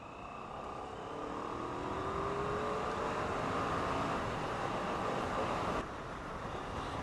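A 2016 Kawasaki ER-6N ABS motorcycle is ridden on back roads, its engine droning steadily with rising pitch under wind noise, easing off near the end.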